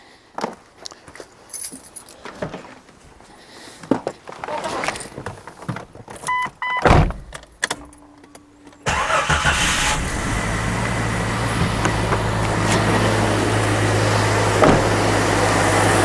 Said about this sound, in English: Start it up, we'll see how it runs.